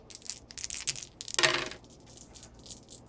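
Four X-Wing miniatures game dice rolled on a table, a burst of rattling clicks and clatters as they tumble, then a loud scrape and a few small settling taps.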